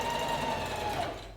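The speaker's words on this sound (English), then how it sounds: "I'm sewing on the edge of my fabric this time," A sewing machine stitches along the fabric edge of a tote bag, a quiet, steady mechanical whirr that runs alone and then tapers off as it slows.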